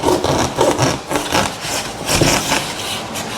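A hacksaw blade cuts through foam garage door insulation from an Insulfoam kit, giving a steady rasping, scraping stroke repeated back and forth at close range for a few seconds.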